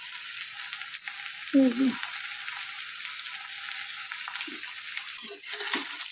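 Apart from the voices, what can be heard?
sautéing vegetables with spices in a pan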